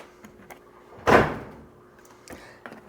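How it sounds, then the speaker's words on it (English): A refrigerator door shuts at home with one solid thud, followed by faint clicks and light handling noises in an otherwise quiet room. "That was the refrigerator door."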